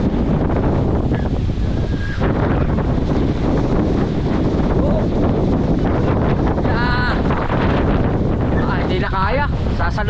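Strong typhoon wind roars and buffets the microphone near the shore, with surf in the background and brief voices breaking through the gusts.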